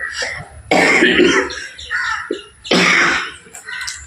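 A person coughs and clears their throat in two loud, harsh bursts about two seconds apart, with quieter throaty sounds between them, close to the listener.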